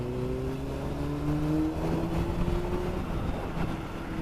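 A Kawasaki Z900 fitted with a full aftermarket exhaust revs steadily, its deep engine note rising in pitch over about four seconds and holding loud and close throughout.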